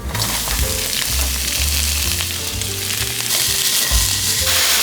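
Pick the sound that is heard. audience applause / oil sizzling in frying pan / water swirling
oil sizzling in frying pan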